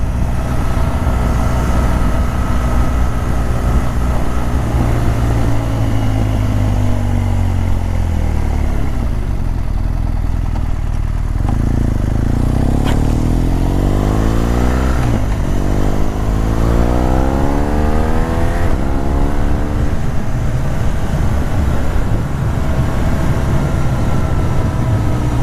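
A motorcycle on an afternoon commute, its engine droning loud and close under heavy wind noise, then climbing steadily in pitch through the gears as it accelerates hard, with no talking.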